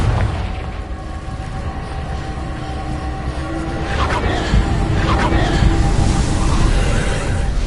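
Confringo fire spell explosions rumble and boom in Hogwarts Legacy, a sustained loud low roar with a couple of sharper blasts bursting through partway, heavy and close throughout.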